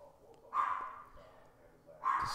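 A dog barking in the background indoors during computer gameplay, two separate barks about a second and a half apart, moderately loud against a quiet room.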